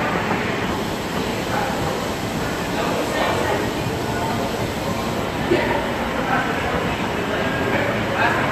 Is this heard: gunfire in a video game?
no